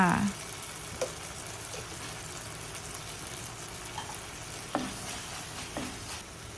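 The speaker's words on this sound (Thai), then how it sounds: "เราก็ผัดไปเรื่อยๆให้เขาสุกค่ะ ใส่พริกแดงค่ะ" Vegetables with red chilli are stir-fried for a spinach curry, a soft continuous sizzle broken by a few utensil scrapes and taps against the pan.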